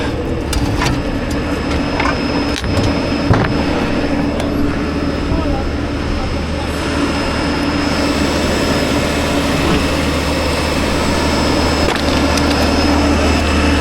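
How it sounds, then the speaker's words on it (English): Loud air compressor running steadily, a constant mechanical hum and drone filling the space, with occasional sharp knocks and clatter of work on top. "Oh, that air compressor's loud"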